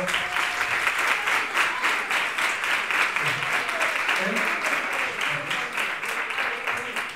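A crowd at a 2021 graduation ceremony applauds the fourth-year class after their sash presentation, with sustained dense clapping, fairly close, and voices talking underneath.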